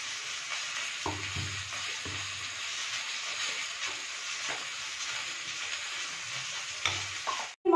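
Spice paste of ginger and salt fries in a pan with a little water, a steady hiss carrying through with soft scraping stir strokes at intervals, close and fairly loud, with no talking.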